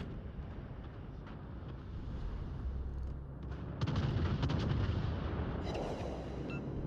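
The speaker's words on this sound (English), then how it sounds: "That was a nice salvo." A naval gun salvo in World of Warships booms out as a deep rumble with a cluster of sharp cracks, followed by muffled distant impacts.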